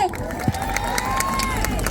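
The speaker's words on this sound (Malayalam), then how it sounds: "ധ്യാൻ ചേട്ടന് ആദ്യത്തേക്ക് ഒരു നല്ല കൈയടി കൊടുത്ത്" A college audience cheers and claps for actor Dhyan Sreenivasan, a dense, continuous crowd roar with scattered clapping while a voice carries over the top.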